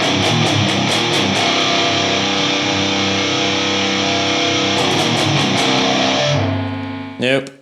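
A distorted electric guitar rings out in sustained, buzzing chords with a steady hiss beneath, fading before a final quick strum.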